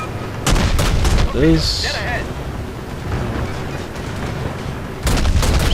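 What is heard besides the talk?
naval guns firing in World of Warships video game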